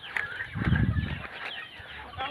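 Chickens cluck nearby in a short flurry of overlapping calls, with a louder cackling burst in the middle over faint outdoor background.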